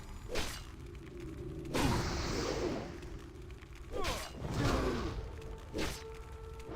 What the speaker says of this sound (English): My level 1 lightning bolt.